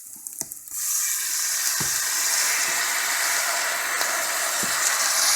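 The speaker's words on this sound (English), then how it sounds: "Now I'm going to add the sauerkraut." Raw sauerkraut dropped into a hot pan with softened, glassy onions breaks into a loud, steady sizzle after a few brief clatters, the frying hiss holding strong and close to the end.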